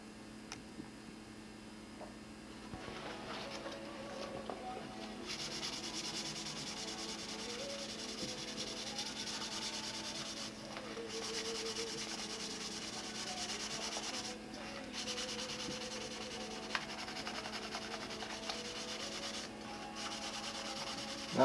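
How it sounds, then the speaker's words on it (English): Dry sanding with 400-grit sandpaper across a silver-painted wing of an '87 Nobler model airplane: quiet, continuous rubbing strokes in uneven passes, close and soft, with small ticks between strokes. "I'm sanding it dry of course, and just running over all the high spots of the silver"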